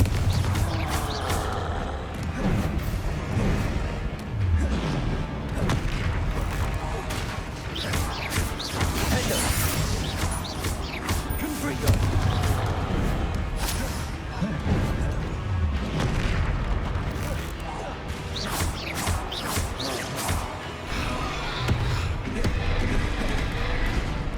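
Confringo fire spell blasts in Hogwarts Legacy, loud booming explosions and crashing debris recurring over dense game sound effects throughout.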